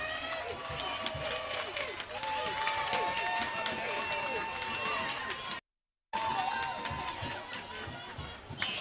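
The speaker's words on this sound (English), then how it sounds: "And everyone here is clapping." A football stadium crowd at a Ghana Premier League match between Bibiani Gold Stars and Accra Lions claps and murmurs throughout, a broad distant wash under steady commentary speech, broken by a brief silent gap.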